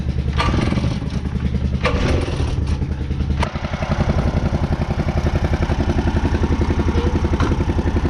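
Rough-running Husqvarna engine, likely on landscaping equipment, chugging loudly and steadily up close with an uneven, clattery idle and a brief dip before it settles into a continuous throb.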